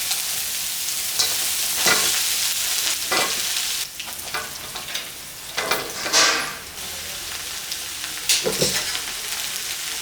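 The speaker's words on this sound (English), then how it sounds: "Now we're going to add in our crispy ribs." Crispy char siu ribs stir-fried in a wok with chopped red onion, loud crackling sizzle broken by repeated scraping tosses of the spatula at an irregular rhythm, close by.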